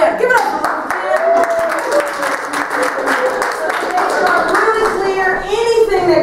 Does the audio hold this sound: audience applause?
yes